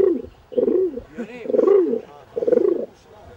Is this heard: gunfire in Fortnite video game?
no